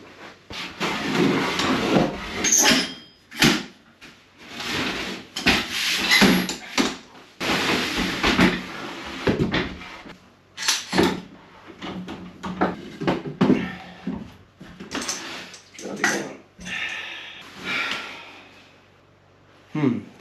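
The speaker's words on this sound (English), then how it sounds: "holding these pieces in place while I bolt them in" Wooden pieces of a rustic bunk bed are being held and bolted together inside an off-grid cabin. Irregular knocks, scrapes and rubbing bursts come close and fairly loud, with someone talking at times between them.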